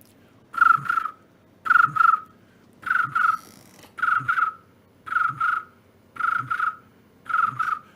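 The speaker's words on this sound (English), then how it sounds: "Crickets." Cricket-like chirps of a stock sound effect arrive in seven evenly spaced bursts, each a quick double trill, clear and isolated against near silence.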